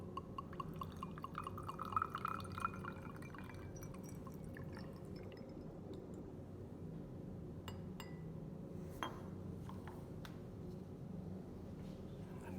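Liquid trickling and dripping into a glass beaker during a chemistry lab experiment, with faint glassy clinks over a steady low hum of room noise; quiet and close throughout.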